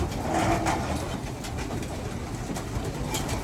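Birds calling outdoors over a steady wash of background noise, with a few brief tonal chirps near the start and no voices.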